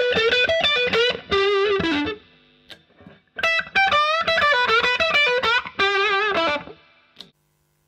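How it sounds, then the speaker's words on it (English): A Fender Stratocaster with Bare Knuckle Mule and 63 Veneer pickups plays a simple overdriven lead line, two sustained melodic phrases of bent and held notes separated by a short pause, close and clear with no talk. "I'm going to play a simple lead line so you can hear the difference between the bridge pickup and neck pickup lead tones."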